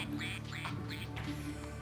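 A duck quacks in a few short, nasal bursts, close and fairly quiet over a steady low background hum.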